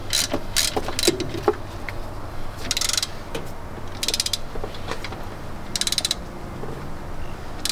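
Ratchet tightening bolts on a 2001 NB Mazda Miata during a serpentine belt change, with repeated bursts of fast metallic clicking at a steady working pace, close up and alone.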